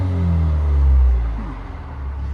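Exhaust of a 2019 Alfa Romeo Giulia with a 2.0L turbo engine and a deleted muffler: a deep, loud, steady drone that swells then eases off slightly, heard alone for a couple of seconds.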